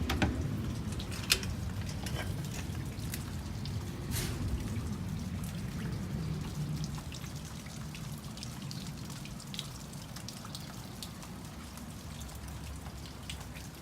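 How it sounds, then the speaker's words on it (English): Steady rain patters on a surface, with scattered drips ticking throughout and a low, even wash of falling water. "Looks like we had a brief but substantial rain."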